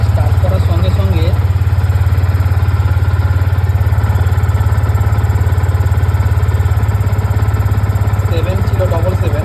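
A Yamaha MT BS6 motorcycle idles close by with a loud, steady, throbbing engine note, and someone talks over it at the start and the end.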